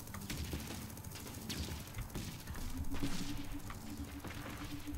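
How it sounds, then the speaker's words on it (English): Big explosions ring out during a naval battle in the TerraTech video game, with dense crackling bursts and booms layered over a steady low rumble. "Oosh. Big explosions."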